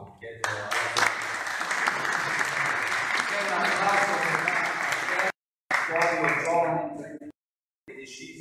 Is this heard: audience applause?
yes